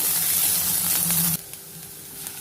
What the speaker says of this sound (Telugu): దీన్నంతా ఒకసారి కలుపుకుంటూ వేయించుకోవాలి.